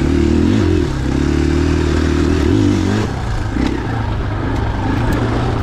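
A 2021 KTM 500 EXC-F dual-sport motorcycle engine drones steadily while riding on Southern Oregon trails, loud and close, with the pitch rising and easing as the throttle shifts and a dip around the midpoint, mixed with rattling clatter.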